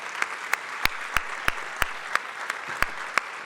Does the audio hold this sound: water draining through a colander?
no